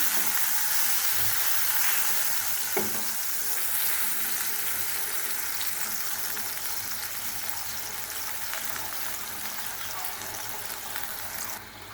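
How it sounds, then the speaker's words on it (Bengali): Brinjal (eggplant) slices fry in oil in a pan, giving a steady, close sizzling hiss for the whole stretch, with a couple of soft knocks near the start as they are turned. "বেগুনটা আমি উল্টিয়ে নিচ্ছি, এরকম লাল লাল করে ভেজে নেব বেগুন।"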